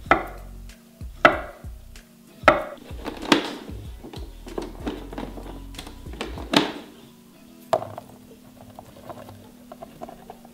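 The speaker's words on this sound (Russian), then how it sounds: "Режем морковку также на слайсы." A knife slices carrots on a cutting board, with several sharp, separate cuts and thuds spaced irregularly, close and clear, no talking.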